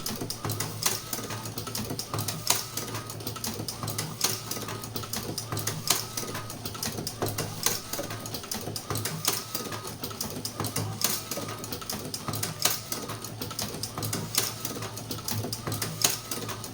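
A full-electric cigarette rolling machine runs on automatic, giving off a fast, even mechanical clicking and whirring that repeats steadily and fairly quietly throughout.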